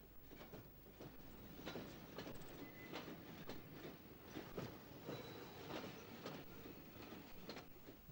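An EPB stock electric train approaches Holborn Viaduct, with a steady rumble and repeated clickety-clack wheel beats over rail joints, faint but continuous throughout.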